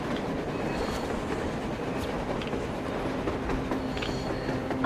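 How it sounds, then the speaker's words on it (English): A train rolls along rails in the post-apocalyptic shooter Metro Exodus, a continuous rumbling clatter with rhythmic wheel clicks and occasional metallic squeals, heard from nearby and alone without voices. "A train! A damn train on the surface!"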